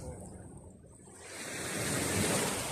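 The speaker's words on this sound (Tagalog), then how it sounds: "Papakita ko yung alon." Ocean surf at Boracay Beach swells from a quiet wash into a louder, hissing wave breaking on the shore, with some wind across the microphone.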